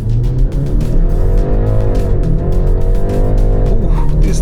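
A BMW X3 30 Performance SUV launches hard from a standstill under launch control, its engine loud and close as it revs and pulls continuously upward, with harmonics rising through the gears.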